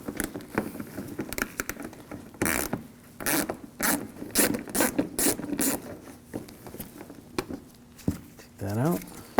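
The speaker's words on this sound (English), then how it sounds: "Now I take these screws out on the side," Screws being backed out with an 8mm socket on a 2007-2013 BMW 328i headlight assembly, giving rapid ratcheting clicks in short bursts, close and fairly loud, with brief pauses and a final squeaky turn.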